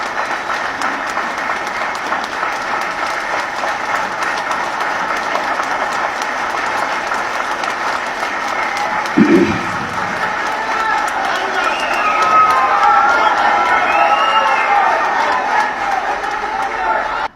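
An audience at a Tamil oration applauds in a sustained, even wash of clapping. A brief thump falls near the middle, and the clapping swells somewhat louder toward the end.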